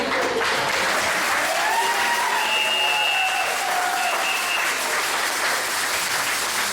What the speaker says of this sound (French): Peut-être on les applaudir